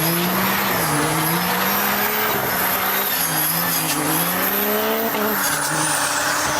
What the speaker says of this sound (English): He drifted his truck like it was a 240 SX.